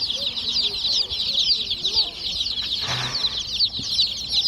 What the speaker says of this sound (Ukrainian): Ось такі мої курчатка